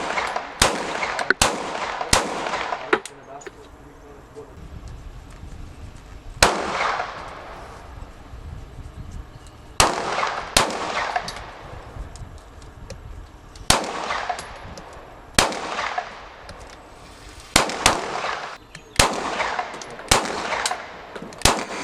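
Sharp pistol gunshots from a 9mm Glock fitted in a Micro Roni gen 4 conversion kit crack out in quick clusters and single shots, loud and close, with short echoing decays between them over about twenty seconds.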